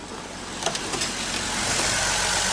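A 2014 Ford F-150 work truck with a V6 and California emissions idles close by in a steady mid-pitched drone. A couple of faint knocks sound early, and the engine note rises slightly toward the end.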